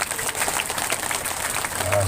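A congregation at a tabligh akbar religious gathering marking the Prophet's birthday claps in sustained, fairly loud applause, the many hands blending into an even wash of sound.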